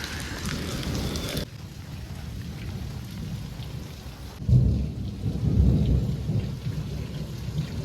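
Steady heavy rain pours down, broken by a rumble of thunder midway that swells and lingers as a low roll under the downpour.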